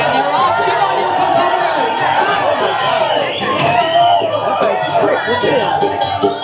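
A rowdy crowd cheers on competitors in a log-chopping contest, a dense wash of shouting, whooping and chatter that stays loud and steady throughout, with an announcer's voice mixed in.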